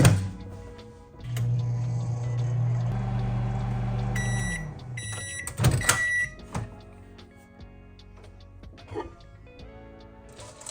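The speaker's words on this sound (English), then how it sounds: "I'm gonna put this in the microwave in bursts of 30 seconds until it melts" A microwave oven hums with a steady low electrical drone for a few seconds while melting chocolate, then stops; clicks and a short series of beeps follow, with quieter rustling and handling afterward.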